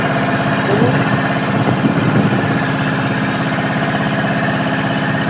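A launch's engine runs steadily on a river crossing, a continuous low drone and vibration filling the whole stretch, with a faint voice briefly over it.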